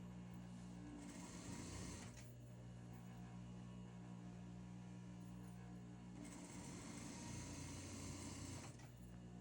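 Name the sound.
sewing machine stitching suit pants at the waist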